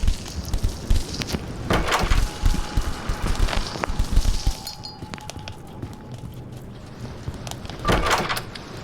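A door opens in the Roblox horror game Doors, a brief creak and clunk amid game ambience with scattered knocks and footsteps, no talk.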